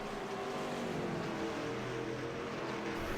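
Race car engines drone in the iRacing sim at New Hampshire, a steady faint buzzing whine from several cars blending into one continuous hum with no talking.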